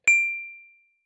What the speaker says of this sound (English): That's the sound that we would get when we strike the bell.